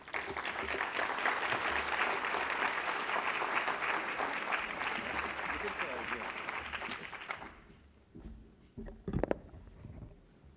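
Audience at a child poverty conference applauding as a speaker is welcomed, sustained loud clapping that fades out after about eight seconds, followed by a few thumps and faint speech.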